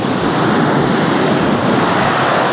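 Surf washing onto a secluded beach in a small bay on Koh Rong Samloem, Cambodia, a steady broadband roar of breaking waves with some wind rumble, loud and continuous throughout with no voices.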